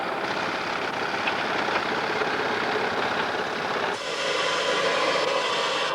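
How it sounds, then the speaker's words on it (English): The diesel engine of a Hunslet-type 7¼ inch gauge model locomotive runs at a steady, close idle at an outdoor gauge society meeting in Betws-y-Coed, a continuous rough chugging drone without a break. "owned and built by T. Vernon from Frodsham, was the only loco present that was actually powered by a diesel engine"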